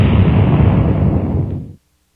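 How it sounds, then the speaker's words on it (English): A loud synthetic explosion played on a MicroFreak synthesizer roars as a dense, noisy rumble, holds steady, then cuts off abruptly into silence. "A really nice explosion sound."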